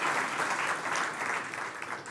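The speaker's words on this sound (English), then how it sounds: "I think he needs a round of applause." At a research and innovation awards ceremony, an audience applauds a professor with a short, even burst of crowd clapping that holds steady throughout.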